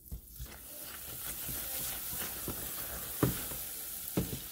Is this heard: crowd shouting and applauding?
no